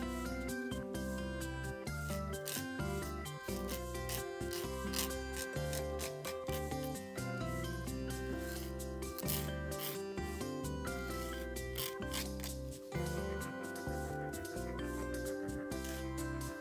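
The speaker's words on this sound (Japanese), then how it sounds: "ファイルで削っていきます。 縦に削ると剥がしやすいです。" Nail file scraping off a transfer sticker applied to a nail, faint repeated rasping strokes heard beneath loud background music.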